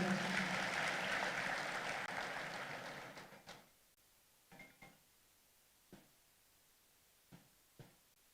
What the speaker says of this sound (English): Let's give our Secretary General a big hand clap as he comes in